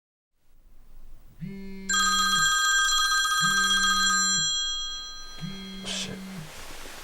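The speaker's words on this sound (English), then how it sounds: "Sorry, that's my phone." Mobile phone ringtone chiming in three repeated electronic bursts, loud and close, in a quiet indoor scene.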